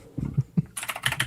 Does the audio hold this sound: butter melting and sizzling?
no